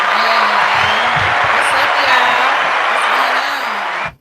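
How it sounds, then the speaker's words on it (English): A podcast studio audience claps and cheers, producing a dense, loud wash of applause with whoops that holds steady for about four seconds and then cuts off sharply. A voice talks over it. "Let's get them some hand claps"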